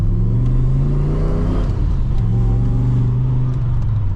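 HSV VS Manta, an entry-level manual, its healthy engine revving loud and close, with harmonic tones rising and falling in a steady throaty drone and no talk.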